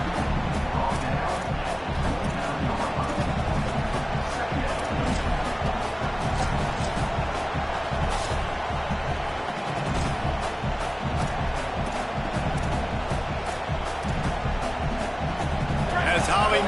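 Home crowd roaring at a football game, a dense, sustained stadium din with cheering swells throughout, under continuous play-by-play commentary.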